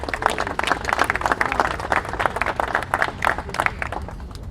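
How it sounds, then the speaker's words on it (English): Audience applause at a civic UNESCO City of Music event in Kansas City, Kansas, welcoming the district commissioner: dense, sustained clapping from a crowd, steady and moderately loud for several seconds. "Give her a round of applause as she comes forward"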